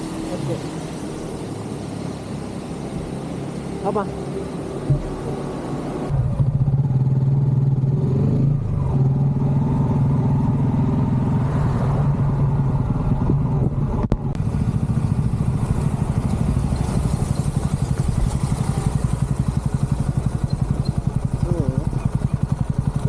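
A motorcycle engine drones steadily while riding along a road on a bike trip toward Kudremukh, the sound thickening with wind and rumble partway through as a voice talks over it.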